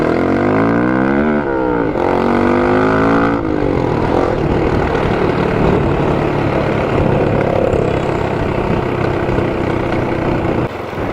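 A motorcycle with a Yoshimura USA slip-on performance exhaust revs up and down close by, its pitch sweeping, then settles into a loud, steady throaty roar.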